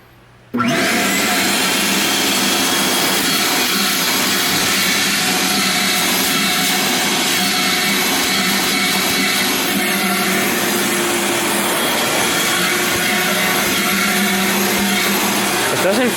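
A Cen-Tec garage vacuum fitted with a 50-foot hose switches on with a sudden loud whoosh, then runs as a steady, strong motor whine and airflow roar for the rest of the clip, close by and alone.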